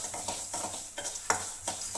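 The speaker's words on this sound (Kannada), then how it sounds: "ಗ್ಯಾಸ್ನ ಲೋ ಫ್ಲೇಮ್ನಲ್ಲಿ ಇಟ್ಕೊಂಡೆ ಈ ರೀತಿ ಚೆನ್ನಾಗಿ ಒಂದು 5 ನಿಮಿಷ ಆದರೂ ಫ್ರೈ ಮಾಡ್ಕೋಬೇಕು ನೀವು" Pumpkin seeds frying on a low gas flame, crisp sizzling broken by rhythmic stirring scrapes and rattles every half second or so, close up and without speech.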